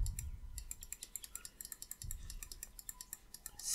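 A computer keyboard and mouse click quickly and crisply, close and fairly quiet, while a player works through a video game's menus. No one talks.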